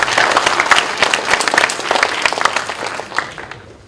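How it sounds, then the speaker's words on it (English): An audience claps loudly and densely at a 2016 commencement ceremony, a close, sustained burst of applause that fades gradually toward the end. "So big round of applause for all of you."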